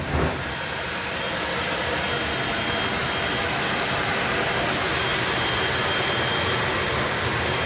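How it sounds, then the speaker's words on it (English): A jet dragster's afterburner roars at a drag racing event, a loud, harsh, continuous blast of broadband noise that holds steady and close for the whole stretch with no voices. "the afterburner only gets harsher and louder"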